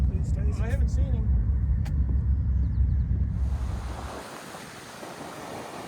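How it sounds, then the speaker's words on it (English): Ocean surf rolls in at Morro Strand beach with a steady broad wash, backed by wind noise on the microphone and a brief passing vehicle, while a voice speaks over it early on. "Here's the beach, Morro Strand."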